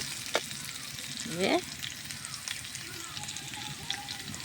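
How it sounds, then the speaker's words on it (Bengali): Potato pieces deep-fry in hot oil, giving a steady close crackling sizzle with a brief louder bubbling burst near the start. "আলুগুলো আস্তে আস্তে জাল দিয়ে তেলের মধ্যে ছেড়ে দিয়ে সুন্দর করে লাল করে ভেজে দেবো।"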